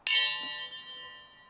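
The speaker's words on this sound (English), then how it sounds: "ring that bell" A single bell ding strikes sharply and then rings out with a long, bright decaying tone, heard alone and fairly clear.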